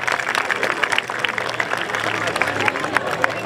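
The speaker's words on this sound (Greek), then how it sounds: "ένα μεγάλο χειροκρότημα για τα χορευτικά και τους συλλόγους" Audience applause for the dance groups at an outdoor folk festival night, a steady wash of many hands clapping with crowd babble mixed in, continuous and fairly loud throughout.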